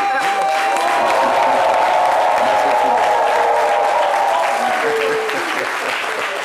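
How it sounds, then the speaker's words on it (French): Sustained audience applause in a studio during a French midday broadcast, a dense steady roar of clapping with a voice speaking over it, fading slightly near the end. "Je voudrais qu'on applaudisse encore, docteur."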